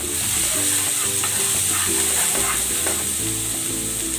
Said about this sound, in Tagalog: Igigisa ko na ito ng bawang.